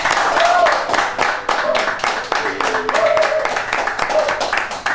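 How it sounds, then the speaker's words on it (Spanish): An audience of artists gives warm applause at a Venezuelan arts event, a dense patter of hand clapping rising and falling across the moment, with a voice speaking beneath it. "un caluroso aplauso de todos los artistas que estamos aquí"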